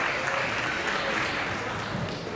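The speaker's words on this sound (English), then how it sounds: "Please give a round of applause for" Audience applause at a middle school assembly: continuous, moderately loud clapping from a crowd of students across the whole short stretch, with faint voices mixed underneath.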